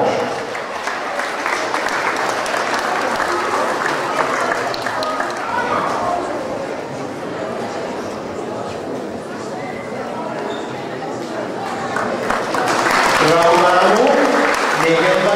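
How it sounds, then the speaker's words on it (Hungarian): A crowd at a school running event's award ceremony applauds for a long stretch, with steady clapping, scattered voices and talk throughout, and the applause swelling louder near the end. "Gratulálunk, még egy nagyon nagy tapsot."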